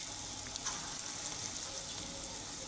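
Pea and urad dal fritters (bora) frying in oil give a steady, soft, hissing sizzle with faint crackles and light stirring clicks, close and continuous throughout without speech.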